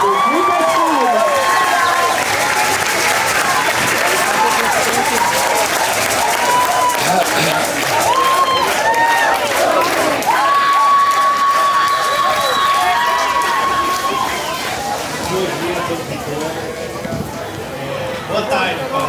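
Audience applause fills a multiethnic festival tent at FICA 2025, a steady dense clapping with some cheering that runs throughout, loud and close, with a voice talking over it.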